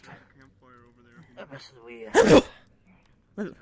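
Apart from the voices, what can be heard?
sneeze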